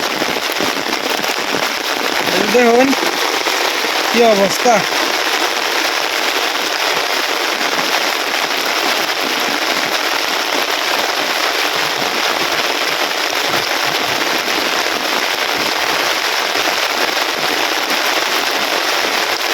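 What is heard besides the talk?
heavy rain in a village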